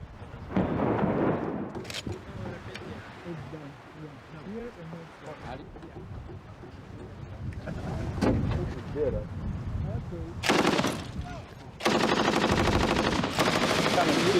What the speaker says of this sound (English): Limonov became notorious when he was then filmed firing a machine gun in what seemed a random manner into the city below.